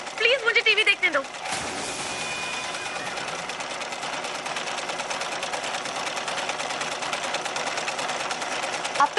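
A household sewing machine running continuously at a fast, even, clattering rhythm for several seconds, close and fairly loud, after a brief burst of other sound at the start.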